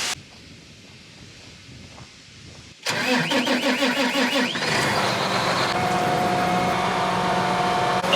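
A tractor engine cranks and catches, then settles into a loud, steady idle that carries on for several seconds in a farm yard, with a faint high tone above it.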